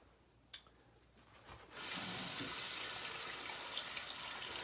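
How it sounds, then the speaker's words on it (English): A few faint taps, then a tap opens and water runs steadily and hissing into a shaving brush and soap for wet shaving, continuous and close. "now is where we're going to want to add the water"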